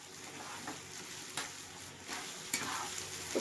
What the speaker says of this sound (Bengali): তো খুব সুন্দর করে আস্তে আস্তে নেড়ে নেড়ে রান্নাটা করে নিতে হবে।